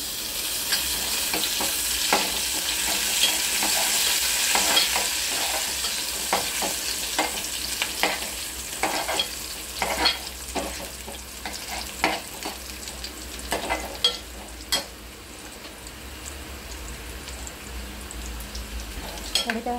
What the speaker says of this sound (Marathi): कढीपत्ता पूर्ण भाजायला आहे। कांदा पण भाजतो त्याबरोबर।